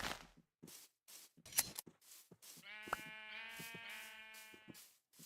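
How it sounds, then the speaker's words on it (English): Sheep in the Minecraft video game bleat in short repeated calls, some sheared with quick snipping clicks, heard fairly faintly between gaps of silence. "and you come back and you see your sheep are sheared,"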